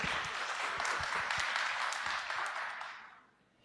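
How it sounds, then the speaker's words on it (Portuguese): A crowd at a business planning talk claps together in a dense, steady burst of applause that fades out over the last half second. "Uma salva de palmas para vocês."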